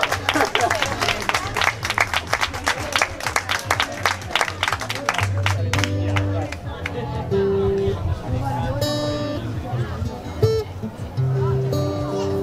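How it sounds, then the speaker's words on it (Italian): An audience at a singers' performance claps and cheers loudly, the applause continuing as music and voices rise over it. "Applausi di incoraggiamento, per favore."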